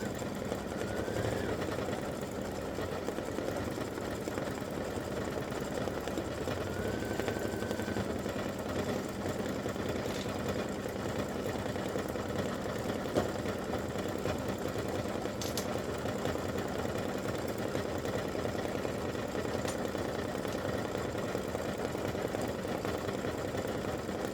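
An embroidery machine stitches brown thread along both sides of a football in a Thanksgiving turkey running back embroidered block, a steady mechanical whir with a low motor drone that runs without pause, close and moderately loud.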